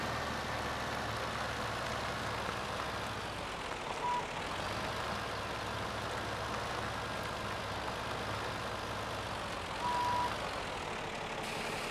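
A GMC truck in Farming Simulator 17 idles with a steady low engine drone throughout, while two brief reversing beeps sound several seconds apart, all fairly quiet.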